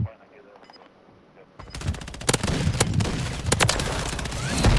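Rapid gunfire in Call of Duty crackles in dense automatic bursts after a quieter opening, loud and close, with sharp individual shots punctuating the volley.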